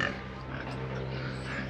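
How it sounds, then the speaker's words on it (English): A pig on a farm in Thailand giving low, continuous grunts close by, a rough steady rumble lasting under two seconds. "Pig is peeing in his own drinking water."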